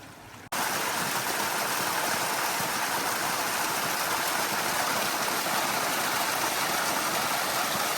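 Creek water rushes in a steady, dense hiss as water bags are filled, starting abruptly after a brief quiet moment and continuing loud and constant.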